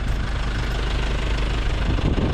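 Nissan Navara pickup truck engine idling outdoors, a steady low rumbling drone at close range for a couple of seconds with no speech.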